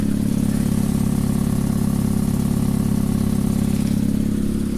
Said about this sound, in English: the engine runs good. It's fairly quiet at idle.